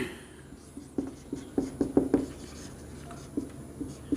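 Chalk or marker taps and scratches on a board in a classroom, a short irregular run of faint strokes close by, with quiet room tone between them.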